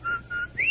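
A person whistles three short notes of the Rinso White jingle, clear and close, the first two level and the third sliding upward, alone without talk.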